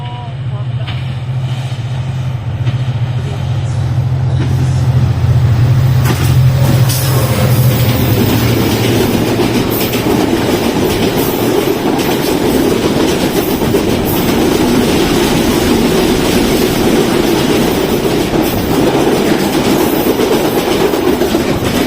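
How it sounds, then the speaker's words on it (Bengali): The Padma Express intercity train roars loudly past Rajshahi University railway station, with a sustained rushing rumble and clickety-clack of wagons close by, and people talk over it. "সেখানে আমাদের জন্য অপেক্ষা করছে ট্রেন নম্বর 759, 760 আন্তনগর পদ্মা এক্সপ্রেস"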